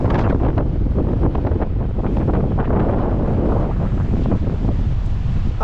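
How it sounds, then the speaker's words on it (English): Strong coastal wind by a beach in Portugal buffets the microphone in heavy, rumbling gusts, a continuous roaring blast with no voices. "one of the most windiest places I've ever been to"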